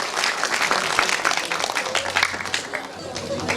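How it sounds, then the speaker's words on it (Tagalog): Church congregation breaks into loud, sustained applause during a worship service, a dense crowd of hands clapping steadily with voices calling out underneath. "Isa nga pong malakas sa palakpak para sa Panginoon."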